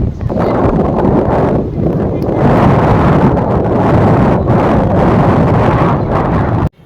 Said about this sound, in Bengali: সমুদ্রের দিক থেকে হাওয়াটা আসছে